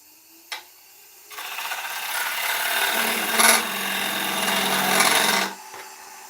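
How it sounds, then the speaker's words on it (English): A skew chisel squares the tenon of a beech bowl spinning on a lathe, a steady rasping scrape that holds for about four seconds after a brief knock, then stops abruptly. "So what I want to do now is square off that tenon."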